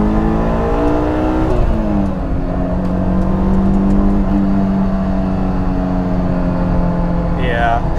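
A 2003 Honda S2000 AP1 engine revs loud and close, its pitch rising and then holding a steady drone under hard acceleration, with a brief squeal near the end.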